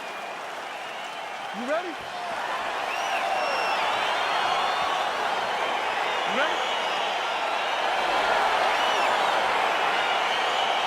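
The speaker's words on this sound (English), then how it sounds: "crowd getting excited as this fight gets underway" A packed arena crowd roars and applauds steadily in the fighting game EA Sports UFC 4 as a bout begins, a dense sustained swell with scattered shouts and a short spoken line early on.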